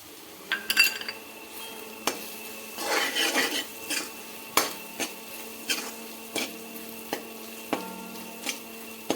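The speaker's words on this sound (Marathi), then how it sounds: "छान अगदी हलवून घ्यायचं आहे" A spoon stirring a ground peanut and coconut masala with fenugreek leaves in a metal pan, sharp regular clinks and scrapes against the pan with a short burst of sizzling early on, no talking.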